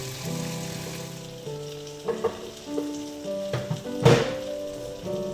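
Garlic and ginger fry in a pan with a steady sizzle, broken by a few spoon thunks and stirring scrapes, one louder clatter near the end.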